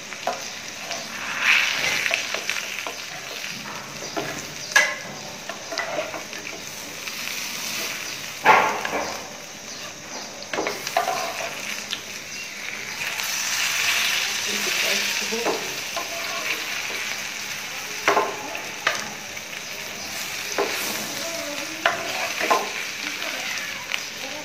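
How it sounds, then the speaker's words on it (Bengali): Potatoes fry in a pan of oil, a continuous sizzle broken by sharp stirring and clattering scrapes at irregular intervals, close and fairly loud, with a voice briefly heard at moments. "আলু দুটো আছে, সে দুটো আমি ভেজে নিচ্ছি।"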